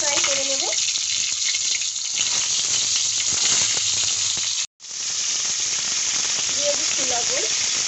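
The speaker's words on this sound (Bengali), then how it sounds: "গরম তেলের মধ্যে আমি পটলগুলো দিয়ে দেবো। পটলগুলো আমি হালকা ফ্রাই করে নেব।" Pointed gourd (potol) pieces frying in hot oil in a kadai, giving a steady, loud broadband sizzle that runs throughout with one brief dropout, while a voice murmurs faintly near the start and end.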